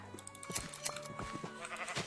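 Minecraft sheep bleat in a few short, wavering calls that sit close and fairly clear over a quiet game background.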